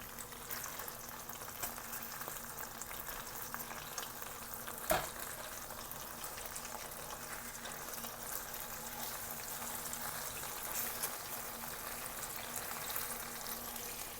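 Peppery Texas chicken pieces sizzle and fry steadily in a pan after being turned over, a continuous soft crackling hiss with one brief louder clatter partway through, no voices.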